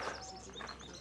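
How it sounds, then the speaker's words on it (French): Birds chirp and tweet in a few short, bright calls over a steady background hiss, fairly faint and with no voices. "Ah mais il y a des oiseaux là-dedans."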